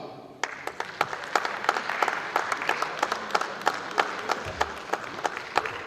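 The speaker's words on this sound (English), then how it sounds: "A round of applause for representatives from NEPFAM as they come to receive the certificate" An audience at the 1st Annual Public Sector Audit Awards 2016 applauds as award recipients come forward for a certificate, a steady crowd clapping with crisp individual claps standing out close by.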